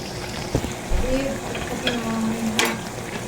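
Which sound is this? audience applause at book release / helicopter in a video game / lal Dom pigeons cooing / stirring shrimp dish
stirring shrimp dish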